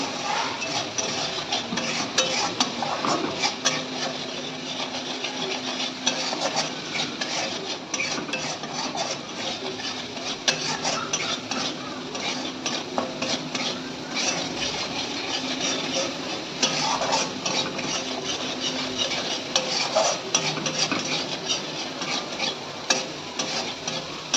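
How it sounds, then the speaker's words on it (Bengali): A spice mix with green chili fries in a pan under constant stirring, a close, busy sizzle broken by repeated scraping and clattering strokes of the spoon for the whole stretch. "এবার মশলাটা একটু ভাজবো"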